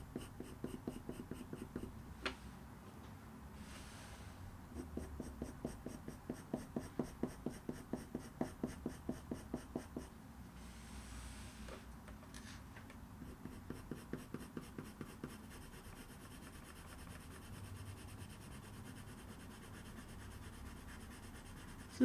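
Colored pencil shading fur on paper for a black cat eye drawing, with quiet bursts of rapid rhythmic back-and-forth scratching strokes separated by pauses, close and alone.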